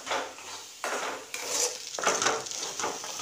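Masala spices being stirred and sautéed in a pan in a home kitchen, with scraping utensil strokes and clinking against the cookware in irregular bursts over a faint background hum.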